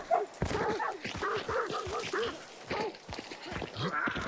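Dogs bark and yip in the Hunt Showdown 1896 video game, a run of close, repeated barks and whimpers packed tightly together in an uneven rhythm with no talk over them.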